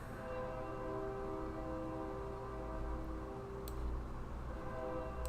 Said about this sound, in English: That is the train. I live next to the train tracks.